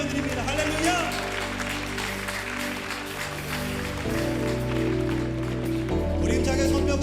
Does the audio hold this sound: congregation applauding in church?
yes